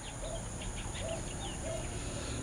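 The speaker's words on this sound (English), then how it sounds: "The birds, the animals," Birds call and chirp in short, scattered bursts over a steady background hum during a morning in the Philippines, the calls faint and somewhat distant.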